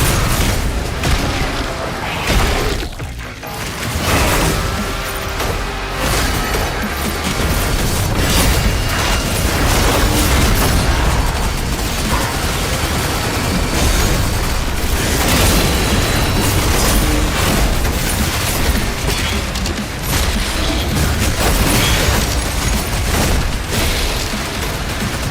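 Enemies blowing up in DOOM: The Dark Ages amid dense, loud game combat, with continuous booms, bursts and clanking effects packed together and no pauses, and no speech.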